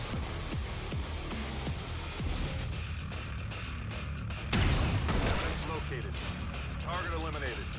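Gunfire in the turn-based strategy game XCOM 2: War of the Chosen, with a sharp burst of shots midway among quieter in-game shuffling and impacts. Someone talks over much of it.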